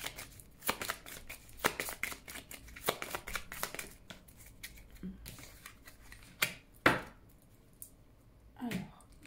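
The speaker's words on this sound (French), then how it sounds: "vous me voyez battre les cartes" Divination cards shuffled by hand in a quiet room, with repeated crisp riffles and soft slaps in an uneven rhythm, close and fairly faint.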